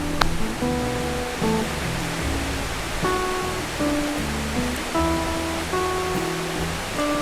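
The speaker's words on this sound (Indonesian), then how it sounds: "Sungainya panjang ya, kecil tapi nggak lebar." A small, narrow mountain river rushes steadily in the cool highlands, a constant close hiss of flowing water with faint tonal sounds scattered through it.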